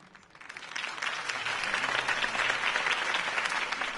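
Steady crowd applause from a political rally in Batman: The Telltale Series, swelling in over the first second and then holding as a dense, continuous wash of clapping with no talk.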